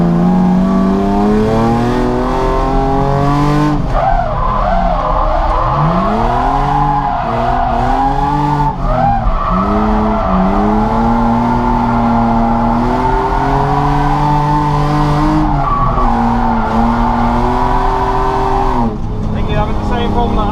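A drift car skids and revs through a big corner at Three Sisters Circuit during a Driftcup 2018 round, its engine note rising and falling with wavering pitch, loud and close, running continuously for about twenty seconds.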